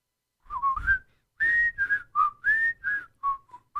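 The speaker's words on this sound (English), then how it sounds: "The whistling." A melodic whistled tune from a 1990s television commercial, a short phrase of clear rising and falling notes in quick succession, alone and clean.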